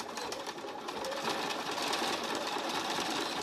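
Sewing machine running with a lengthened stitch, a steady close mechanical whirring hum without pauses, no voices.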